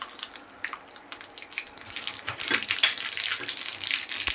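Mustard seeds crackling and popping in hot oil in a pan, a dense run of sharp little sizzling pops that thickens and grows louder as it goes on.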